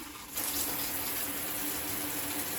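Water suddenly starts gushing from a Triton T80 electric shower and keeps running in a steady, loud hiss, spraying close by.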